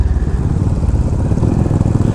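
Motorcycles starting off from a homestay on the way to Kundadri hill, a close engine drone with a low, uneven throb that holds steady throughout, with no voices.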